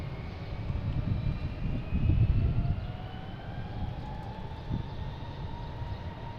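A JetBlue airliner from San Diego arrives at Boston Logan, a fairly faint engine rumble with thin falling whines gliding downward as it passes, swelling briefly before easing off.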